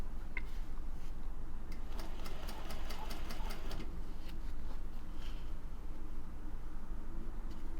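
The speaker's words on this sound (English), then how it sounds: "I am stitching as close to this edge as possible" A sewing machine stitching along the edge of bias tape for a camisole, a continuous close mechanical hum with quick regular ticking needle strokes over a steady low drone.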